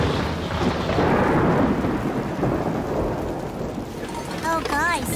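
Steady rain pours with a low thunder rumble, and a brief warbling electronic tone rises near the end.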